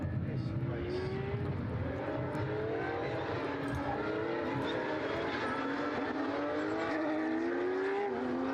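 Porsche race cars on a formation lap at the Portimão circuit, engines droning steadily with rising and falling tones as they weave, heard continuously and fairly loud, with faint voices mixed in.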